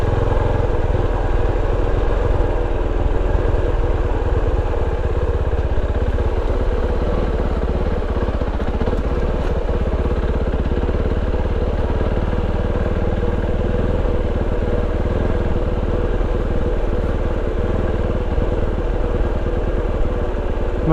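Kove 450 Rally adventure motorcycle ridden off-road on a slippery single-track trail through birch woods: a loud, steady engine drone with low rumble and rattling clatter, and no break for the whole stretch.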